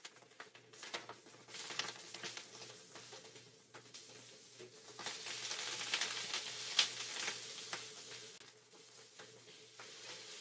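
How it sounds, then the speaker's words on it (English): Food searing in spitting hot oil in a pan for canh chua cá, a Vietnamese sour fish soup, gives a steady close sizzle with crackling pops and spatters that swell louder midway. "Okay, so we're getting finally some sear on a side"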